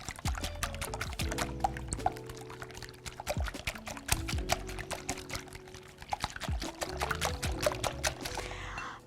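Granulated sugar pours onto four eggs in a bowl, giving a rapid, close patter of granular ticks and rustles that swells and eases in several waves over about nine seconds.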